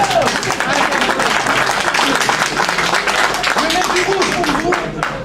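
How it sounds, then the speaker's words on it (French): A live audience applauding loudly, dense sustained clapping from many hands close by, mixed with crowd voices and talk throughout. "Et on applaudit très fort Madame Desley"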